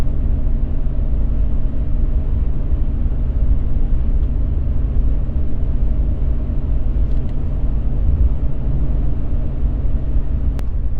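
A Ram 1500 pickup with a Borla S-Type exhaust cruises in 8th gear at around 2000 RPM, producing a steady low droning rumble inside the cab, constant and even without any voices.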